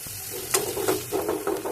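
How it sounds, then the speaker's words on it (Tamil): Steady sizzling of chopped onions frying in oil, with intermittent scraping and stirring sounds from a utensil in the pan, close and moderately loud. "வெங்காயம் வதங்கட்டும்."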